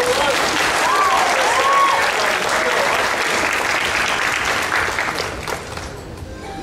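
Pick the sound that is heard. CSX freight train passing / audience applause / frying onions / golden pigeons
audience applause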